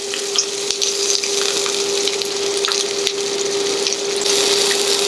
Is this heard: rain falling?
no